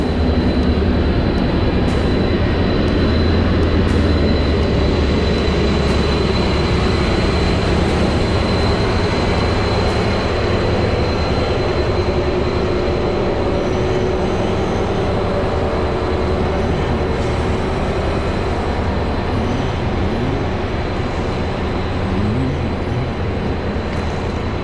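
Steady rumble of an Amtrak Pacific Surfliner passenger train in motion, heard from inside a carriage, with a constant high whine and rolling low-frequency noise throughout.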